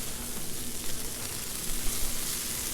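Shredded hash browns frying in butter on a Blackstone flat-top griddle give off a dense, steady close sizzle that fills the short stretch without voices.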